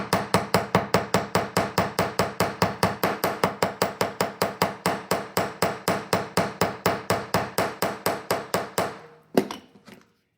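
A hammer strikes wire to flatten it for beginner wire-wrap earrings, a fast, steady run of about forty crisp, close metallic taps that ends in a few final, irregular knocks.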